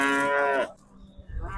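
A cow at the Khojaobod livestock market lets out one loud, close, drawn-out moo that stops abruptly, followed by quiet market background.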